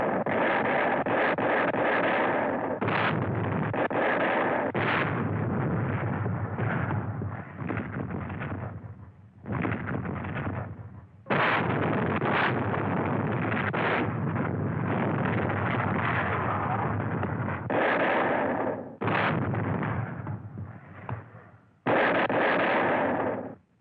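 Naval warships fire their artillery guns in a 1951 war film, a series of heavy booming blasts with rumbling, wind-buffeted roar between them, loud and close, with short gaps of near-silence.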